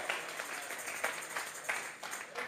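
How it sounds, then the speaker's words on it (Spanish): A church congregation clapping in rhythmic bursts, a steady patter of many hands with regular louder accents, moderately distant. "Vamos a regalarle ofrenda de palmas al Dios de la gloria"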